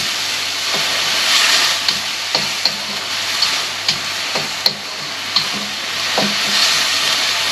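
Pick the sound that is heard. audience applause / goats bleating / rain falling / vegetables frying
vegetables frying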